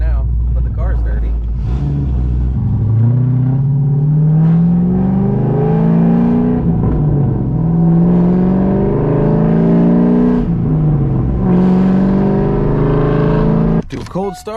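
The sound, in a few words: cammed Corvette engine cold start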